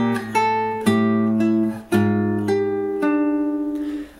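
Fingerstyle acoustic guitar plays the second part of the bridge of a song from Toy Story 2, measure 29: a few sustained plucked chords and single notes ringing alone at a slow, tender pace, with no talk.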